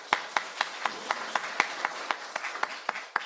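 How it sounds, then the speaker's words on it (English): Applause from a small workshop audience at a robotics conference, heard as a steady run of distinct, evenly spaced claps for about three seconds, moderately close, with no talking. "Let's give him another round of applause."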